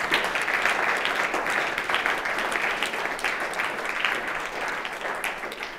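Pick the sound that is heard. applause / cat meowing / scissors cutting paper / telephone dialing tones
applause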